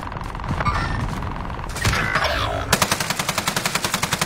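Rapid automatic gunfire in a Call of Duty match, starting after a short scuffle of other game sounds, then a steady loud burst of evenly spaced shots to the end.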